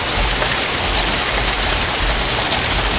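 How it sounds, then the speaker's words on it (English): Heavy rain during Hurricane Irma pours down in a backyard as a loud, dense, unbroken roar of water with no voices. "Looks like it's just a lot of rain."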